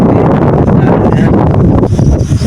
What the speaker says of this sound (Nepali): कस्तो रमाइलो हावा, चिसो हावामा